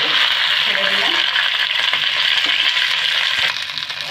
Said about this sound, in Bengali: তেল গরম হয়ে গেছে, ভেন্ডিগুলো ছেড়ে দিলাম।